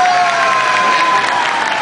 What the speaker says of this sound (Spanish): ahora sí, aplauso pareja número uno